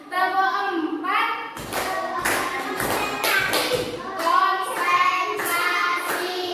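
Children playing a counting clap game, sharp hand claps and taps in short rhythmic bursts interleaved with chanted voices, close and lively.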